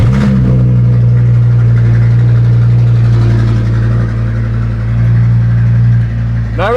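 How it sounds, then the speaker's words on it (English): A car engine on an Audi RS3 converted from a TDI fires up loudly in a cold start and settles into a steady, rumbling high idle, holding close and loud throughout before a brief rise at the end. "Cold start, it's going to be loud."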